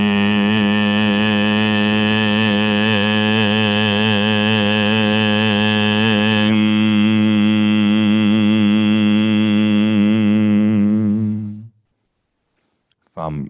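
A meditation teacher sustains a long, steady vocal tone for the kidney healing sound, a rich, even hum lasting about eleven seconds before cutting off into silence.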